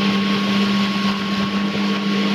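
A speedboat races across the sea in the Andaman Islands, its engine a loud, steady drone close by, mixed with rushing water and buffeting wind on the microphone.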